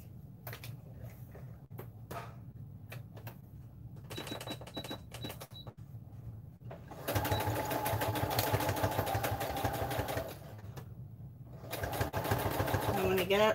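A sewing machine with a zipper foot stitches right alongside zipper teeth in two steady bursts of close, even mechanical whirring, with quieter handling noises and a short pause between runs.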